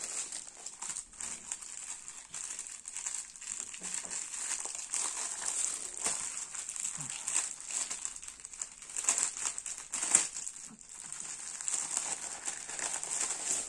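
A cross-stitch kit package is opened with continuous soft crinkling of plastic wrapping, close and fairly quiet, with no talking.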